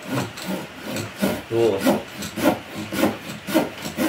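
A sharp folding saw cuts through a wood or bamboo stem, its teeth biting mainly on the pull stroke, giving a steady rasping rhythm of about seven strokes, close and clear with no talking.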